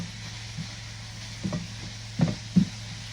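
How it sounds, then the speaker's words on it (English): Seasoning with coriander and curry powder is stirred into a sizzling pan. A low steady sizzle runs throughout, broken by a few soft scrapes and clinks near the end. "Go in with your seasoning and spices of choice. I'm using some coriander, curry powder, and just continue to stir until it is well combined"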